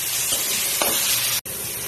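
Spice masala of coriander powder sautéing in oil in a pan for pomfret fish curry, a steady dense sizzle with a soft stirring scrape, cut by a brief silence near the end before the frying resumes.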